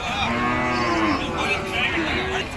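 A calf at a cow market in Nilphamari moos loudly and close, one long drawn-out call with a wavering pitch that dips and rises before fading, with no talking over it.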